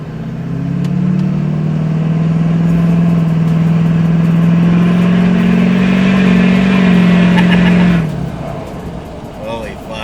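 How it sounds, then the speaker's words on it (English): An LMM Duramax truck with a 5-inch straight pipe exhaust rumbles loudly and steadily at close range, holding a deep drone for about eight seconds before the revs drop away and it settles toward a quieter idle. "That 5-inch exhaust makes it sound so much better."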